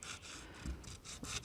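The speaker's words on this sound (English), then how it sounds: "what we want to do is basically just rub" Abrasive rubbing on a rusty van body panel, a quiet rhythmic back-and-forth rasp of a few strokes, close but faint, with no voices.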